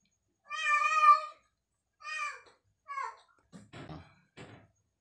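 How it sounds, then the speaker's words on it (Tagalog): An agitated indoor cat meows repeatedly, as if wanting to go outside: three drawn-out cries of decreasing length, then a few rougher, breathier calls, fairly close with quiet gaps between. "Yung pusa nagwawala. Siguro gustong lumabas."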